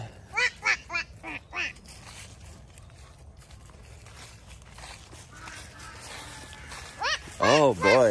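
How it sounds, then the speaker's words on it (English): Several ducks quack loudly nearby in short bursts, with a quieter stretch of outdoor background in between and a person talking. "Let's go feed the duckies. You hear them?"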